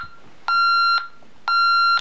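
A Honeywell alarm keypad gives two sustained electronic beeps about a second apart during its arming countdown, loud, clean and close, with nothing else audible.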